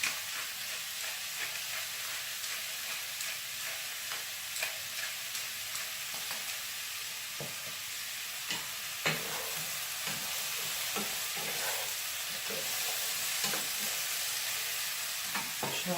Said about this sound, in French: maintenant, on va laisser cuire ça un petit peu, tout en remuant